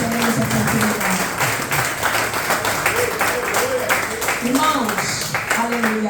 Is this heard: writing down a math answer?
no